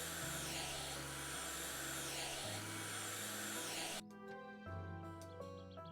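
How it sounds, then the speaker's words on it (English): A small vacuum cleaner in the House Flipper video game drones loudly and continuously, then its pitch shifts and the roar thins partway through, with a game soundtrack audible underneath. "Our lovely little vacuum cleaner here."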